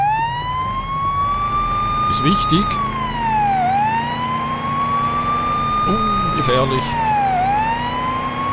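Police car siren in the Police Simulator: Patrol Officers video game, a loud steady wail rising and falling in long sweeps, with brief horn-like chirps and someone talking over it.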